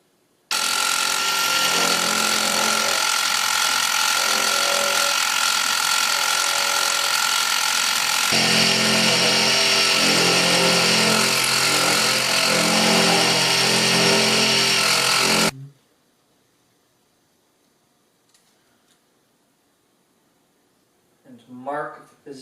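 A mill in a home garage cuts metal while working on parts for a 1976 Mazda RX-5 cluster conversion, giving a loud, steady, harsh whine for about fifteen seconds before it stops abruptly, leaving near silence and a brief faint sound.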